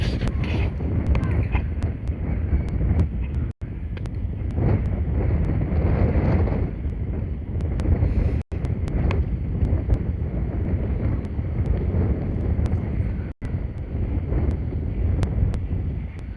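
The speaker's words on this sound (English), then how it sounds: "she's definitely fighting the wind now. Starting to pick up some." Strong wind buffets the microphone continuously while a Fimi X8 SE drone is flown around a park perimeter, a loud broadband roar with low rumble and brief dropouts, no speech over it.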